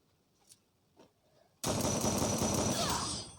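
Gunfire in a video game's Lone Wolf mode: after a couple of faint taps, a loud, dense burst of rapid automatic fire begins abruptly and continues without a break.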